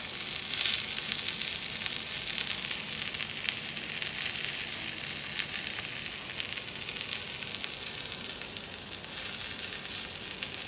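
Pocket pizza dough sizzling in a lightly greased pan, a continuous close hissing fry with small crackles, steady and alone.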